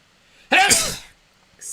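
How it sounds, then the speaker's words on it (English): A single sharp, close sneeze from a person on a live reaction stream bursts out of near silence, followed by a brief breathy sound. "I thought I wasn't gonna actually sneeze, but there we go."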